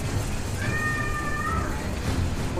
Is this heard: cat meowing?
yes